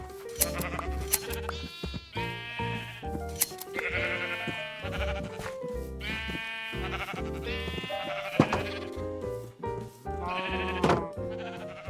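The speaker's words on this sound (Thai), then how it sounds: "เข้ามาแล้วก็ตัดขนแกะกันต่อ" Sheep bleat repeatedly in the Minecraft survival game while wool is being sheared, with loud, close, wavering calls overlapping one another almost continuously.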